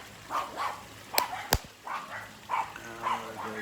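Several guard dogs barking outdoors at a house in a non-gated neighbourhood in the Philippines, a string of short, separate barks at moderate distance, with two sharp louder cracks among them.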